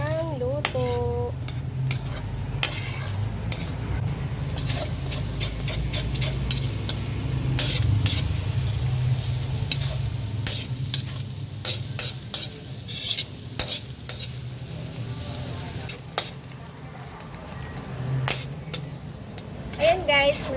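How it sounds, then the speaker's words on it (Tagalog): Spam stirred in a hot frying pan for Filipino spam sisig: a steady sizzle of browning meat runs throughout, with repeated scraping and clinking of a utensil against the pan, while a person talks intermittently over it. "halu-haluin lang po natin yan para mapantay ang luto"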